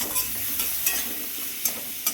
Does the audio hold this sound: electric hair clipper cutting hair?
no